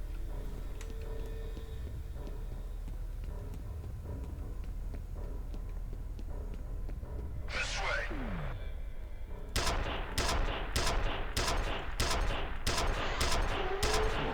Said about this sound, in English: I shot you like 8 times.